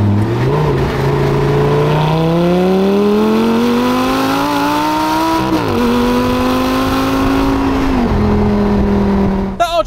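Audi R8 sports car accelerating hard once warmed up, its engine note climbing steadily through the revs with brief dips at gear changes, loud and close throughout.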